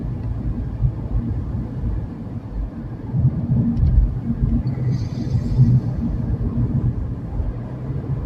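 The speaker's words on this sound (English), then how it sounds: "The road noise is a little on the high end." Steady low road rumble from inside a small car on a casual drive to work, a continuous droning hum with slight swells and no talking.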